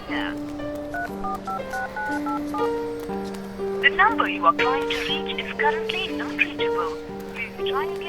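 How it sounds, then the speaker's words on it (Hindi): A sequence of phone dialing tones, steady pitched beeps stepping one after another, with voices chirping briefly over the later part. "एक बार कॉल करके देखो ना"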